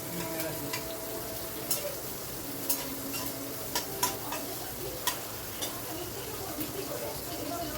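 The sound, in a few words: chopped onion frying and being stirred on high gas flame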